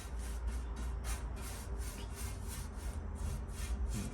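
Repeated rhythmic scrubbing strokes on surface rust in the metal engine bay of a Valiant Charger under restoration, a steady back-and-forth rasp about twice per second, close and continuous with no talking.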